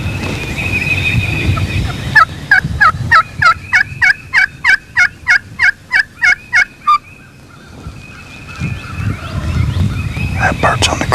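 Several wild turkeys gobble outdoors in a rapid run of loud, evenly spaced bursts, with more gobbling farther off and faint talk at the start and end.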